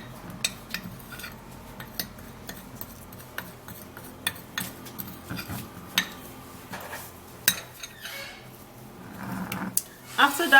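Dry baking soda being mixed in a bowl, with scattered light clinks and scrapes of a utensil against the dish under a voice speaking throughout, closer and busier toward the end.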